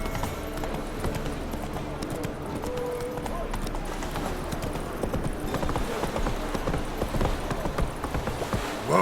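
Roach, a horse in The Witcher 3 video game, gallops with steady, rapid clip-clop hoofbeats throughout, close and continuous over a bed of ambient game sound.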